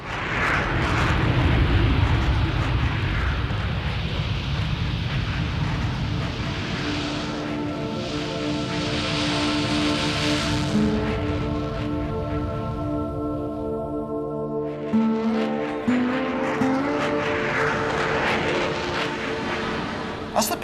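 A loud, steady roar from Concorde jet engines at takeoff, with whining tonal harmonics, building and shifting in pitch as it goes, with faint speech underneath.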